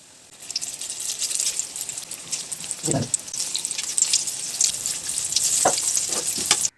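Batter-coated boiled egg halves deep frying in hot oil for egg bhaji, a steady bubbling sizzle with a few sharper crackles and clinks as pieces go in.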